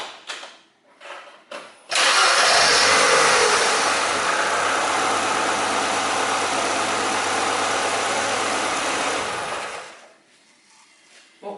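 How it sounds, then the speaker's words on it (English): A Ford Escort Zetec petrol engine, just fitted with new spark plugs, cranks briefly, catches and settles into a loud, steady idle for about eight seconds before being switched off and falling quiet. "and then I go to start that engine."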